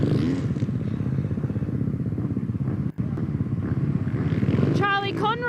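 A KTM dirt bike pulls away from the start line at an off-road race in Casterton, its engine a steady, loud buzz with a commentator talking over it throughout.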